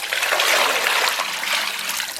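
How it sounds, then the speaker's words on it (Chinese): Water from a tap gushes steadily into a cooking pot for blanching a pork hock, a loud, close, continuous splashing stream lasting about two seconds with no talking. "咱们先给肘子焯一下水"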